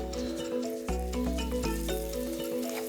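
Beef shanks searing in hot oil in a pot give a steady, close sizzle that never lets up, with faint tonal sounds and a few light knocks behind it.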